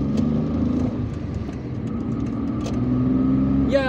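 Heavy traffic streams along a road in Algiers, many cars passing close by in a constant roar of engines and tires, with occasional revving and a short horn-like tone near the end.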